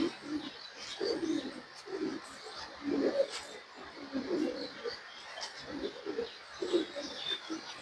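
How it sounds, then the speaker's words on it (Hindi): Teddy pigeons coo in a loft, soft low bubbling calls repeating in short bursts about once a second, close and steady, with faint chirps and background hiss. "बड़े कंट्रोल कबूतर हैं"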